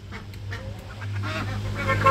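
Ducks and other fowl calling at a busy Bangladeshi poultry market, a few honking, quacking bursts over a constant low hum and crowd murmur.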